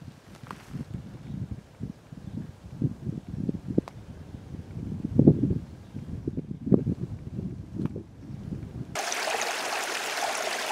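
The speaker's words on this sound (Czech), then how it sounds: "Je vidět, že vody je dostatek. Proud je poměrně silný." The Berounka river flows with a fairly strong current in the Křivoklát region, a steady low burbling and gurgling of water with irregular splashy swells, close and moderately loud, ending in a brighter wash of noise.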